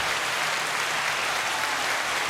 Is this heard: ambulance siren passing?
no